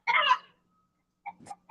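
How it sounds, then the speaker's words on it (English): Backyard chickens give a quick, close cluck, then a couple of softer clucks follow after a pause, with no talk over them. "that's your chickens"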